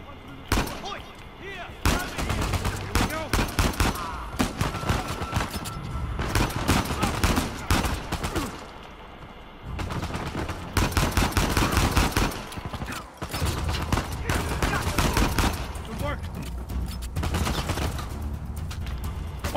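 Rapid bursts of AK-47 fire ring out in the video game Uncharted 4: A Thief's End, loud and close, with short pauses between volleys and a game voice mixed in.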